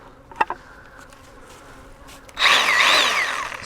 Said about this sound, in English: It's a Milwaukee 12 volt. It's called a hatchet. It's just a little 6-inch chainsaw.